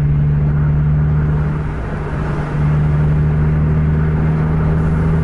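A Scania bus engine pulling hard while overtaking, a loud steady low rumble with a brief dip and swell, heard from inside the vehicle, no voices.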